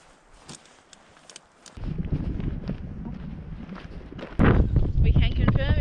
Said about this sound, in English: We can confirm it is still very windy.